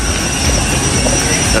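A Virgin Australia Fokker 100 airliner at the airport produces a loud, continuous broadband jet roar that fills the space evenly.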